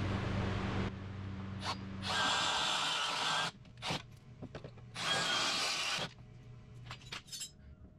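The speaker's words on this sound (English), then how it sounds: "both of the rivets on the other side were loose, so I'm just going to drill those out" Loose rivets on a 2015 Polaris 800 front suspension being drilled out, two sustained whining drill bursts of a couple of seconds each, with clinks and handling noises in between.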